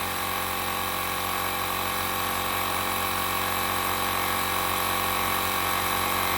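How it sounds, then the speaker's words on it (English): An EAFC portable air compressor tire inflator runs continuously beside a highway while pumping a tire toward 40 psi, a steady, loud mechanical whine and buzz with no pauses or talking. "this is a pretty good little air pump"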